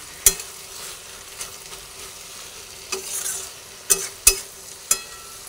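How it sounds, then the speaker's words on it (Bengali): Malabar spinach stir-fried over a high gas flame with hilsa fish head, a low steady sizzle punctuated by about six sharp spatula clacks against the pan at irregular intervals, close and without talk. "বাড়িয়ে আবার নাড়াচাড়া করে করে সুন্দরভাবে কষিয়ে নিচ্ছি"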